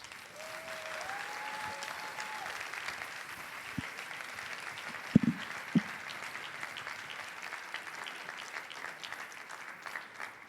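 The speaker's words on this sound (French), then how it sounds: "Je vous demande un tonnerre d'applaudissements pour Frédéric Le Guédois." An audience at a comedy stage show claps steadily for a performer, the applause soft and somewhat distant, with a few sharper knocks partway through.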